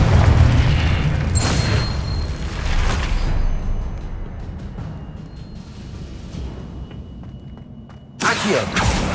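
Booming Confringo spell explosions in Hogwarts Legacy on PS5, with a loud blast at the start, rumbling bursts that fade into a lower roar, and a sudden powerful boom near the end.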